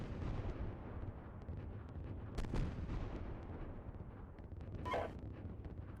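Tank gunfire in the Steel Beasts Pro simulator during a winter combat scenario, heard as a couple of faint, distant booms over a steady low engine rumble inside the vehicle.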